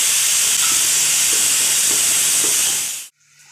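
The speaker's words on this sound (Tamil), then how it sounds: "இதை வதக்கி விடுவோம். வெங்காயம் வதங்கட்டும்." Sliced onions sauté in a pan for coconut milk ghee rice, giving a loud, steady, close sizzle that cuts off abruptly near the end.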